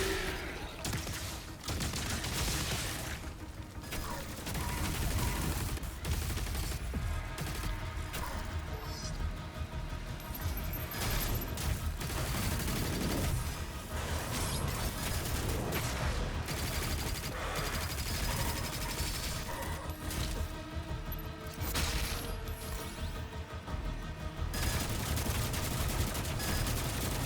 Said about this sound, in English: it's the sound of the gun firing